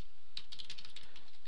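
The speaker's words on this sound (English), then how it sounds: "as I type here" Short burst of typing on a computer keyboard, quick light key clicks close by, with no voices.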